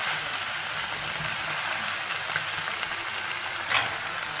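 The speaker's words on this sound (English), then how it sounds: "We put the chicken into the pan. It goes sizzle, sizzle." Close, steady sizzle and crackle of chicken frying in a hot pan for a chicken curry, with a faint scrape near the end.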